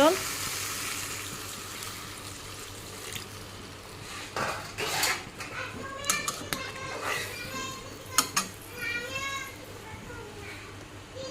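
Spice paste fries in oil for a rohu fish curry, a steady sizzle broken by clinks and scrapes of a utensil against the pan, while voices, including a child's, talk in the background.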